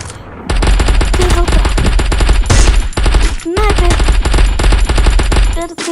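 Rapid automatic gunfire in a shooting video game, loud and close, with bursts rattling almost continuously and a few brief pauses, while a voice talks over it.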